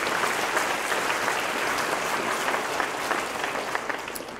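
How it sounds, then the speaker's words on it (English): A banquet audience at the 2019 ECU baseball banquet applauds a player and his wife with dense, sustained clapping, the roomful of hands holding steady throughout before easing slightly at the end. "let's give Brandon and his wife, Emily, a big round of applause"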